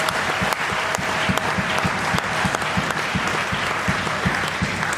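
A church congregation applauding loudly to acclaim the Lord, sustained dense clapping from a large crowd, with a steady rhythmic beat running through it, close and continuous.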